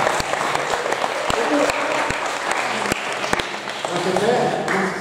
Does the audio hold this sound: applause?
yes